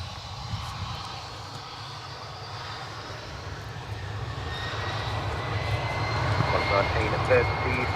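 Airplane engine at Adelaide Airport, a low steady roar building gradually over several seconds as the aircraft powers up on the runway, with radio chatter and talk faintly over it.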